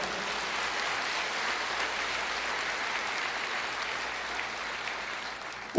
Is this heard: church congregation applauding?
yes